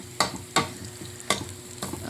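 Onion and garlic fry in a pan with a soft sizzle, while a utensil scrapes and stirs in about five quick strokes that are spaced unevenly.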